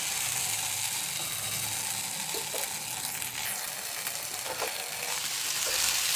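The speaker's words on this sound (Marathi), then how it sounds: "तोपर्यंत मिरची आणि लसूण पण छान परतून निघतो" Garlic, green chillies and tomatoes sautéing in a pan, a soft, steady sizzle heard fairly quietly, broken by a few light spatula scrapes and taps.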